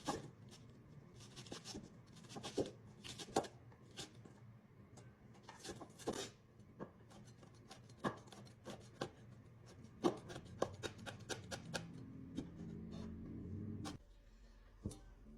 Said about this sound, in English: next we're gonna just chop up the onions and chili